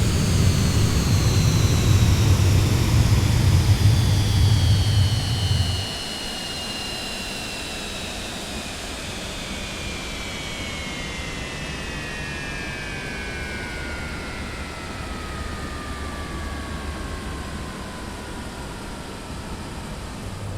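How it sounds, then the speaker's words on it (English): Twin jet engines of a Citation X in Microsoft Flight Simulator 2024 spooling down, a steady roar dropping in level after a few seconds and then a long falling whine that fades slowly over a quiet hiss. "to shut the engines down, it's very simple"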